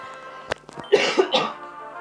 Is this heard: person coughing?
yes